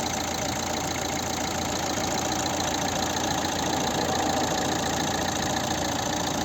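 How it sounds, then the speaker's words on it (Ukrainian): A 2011 Opel Zafira 1.7 diesel engine idles steadily and smoothly, a continuous close-up rumble with a faint rattling texture and no change in revs. "Ось робота двигуна."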